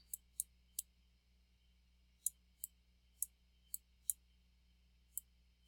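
Sparse, crisp keyboard key clicks while a value is typed for a logarithm calculation, a few taps early then a loose run of single presses, faint and close in an otherwise quiet room.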